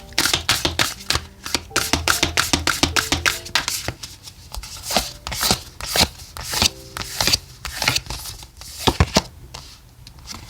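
Oracle cards being shuffled for a tarot reading, a rapid series of crisp riffling and slapping bursts, close and loud, pausing briefly before resuming in uneven clusters, no talking.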